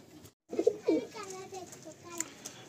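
Giribaj pigeons in a Kolkata loft give a few low, soft coos close by, in a short burst near the start and then fainter, with a faint voice in the background.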